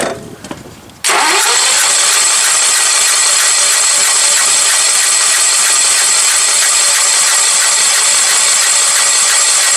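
After a brief quieter moment, a flooded Sears lawn tractor engine with little compression cranks loudly and continuously with a steady rapid mechanical churn that never catches.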